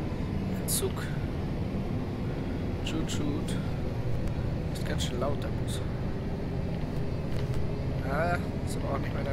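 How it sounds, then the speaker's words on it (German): A steady, loud engine drone of a Kässbohrer Setra S215 UL bus in the game OMSI 2 fills the scene continuously, with brief higher clicks and chirps scattered over the constant rumble. "Ist ganz schön laut, der Bus."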